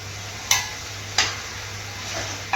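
Spoon scraping through masala and chicken pieces in a pan makes two or three distinct clinks and scrapes, with a faint background hum and low sizzle between them.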